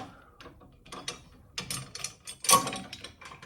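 Ratchet wrench tightening a bolt on the spring plate of a 1972 VW Super Beetle, a series of quiet clicking ratchet strokes with small metallic clinks, close up and without talk.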